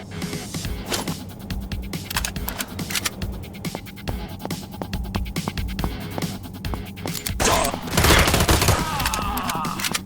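Rapid bursts of Uzi submachine gunfire in a video game, dense overlapping shots close up, with other game noise mixed in and a louder flurry near the end.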